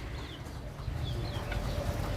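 Pigeons perched on a rooftop coo softly in the distance, a low murmur of birds over steady outdoor background noise.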